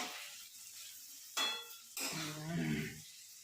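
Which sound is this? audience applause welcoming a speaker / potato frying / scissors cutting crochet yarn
potato frying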